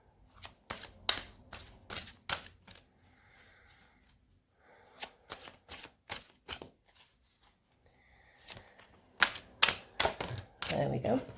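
Oracle cards being shuffled by hand, a run of crisp rapid riffling bursts in several separate rounds with short pauses between, close and fairly loud, with faint rustling in the gaps.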